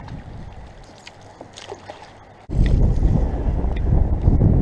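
Chilly wind gusts over a lake during stillwater fishing, with a soft breeze at first, then a sudden strong blast roaring into the microphone. The rumble stays loud and close to the end, with water faintly beneath it.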